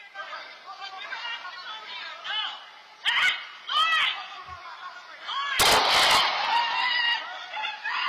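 Gunshots ring out in home security camera footage of a shooting in a quiet Florida neighborhood. Sharp bursts at three points cut through background chatter and bird-like calls, and the loudest crack comes near the middle.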